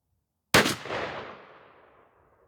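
A single loud 12-gauge shotgun blast from a Mossberg 500 loaded with Rio turkey magnum shells, fired outdoors, with a sharp crack followed by a long fading echo and no talk.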